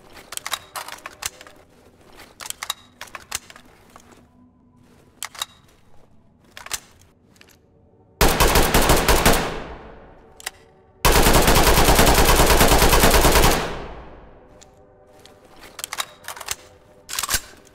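SLR-47 rifle fire in the Ready or Not game: scattered single shots and short bursts. These lead into two long, loud sustained volleys of automatic fire with fading echoes, then more sporadic shots.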